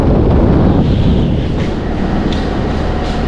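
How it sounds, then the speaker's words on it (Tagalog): Strong wind roars in a steady, heavy buffet against the microphone outdoors, a loud, continuous low rumble with no pause. "sobrang lakas po ng hangin talaga"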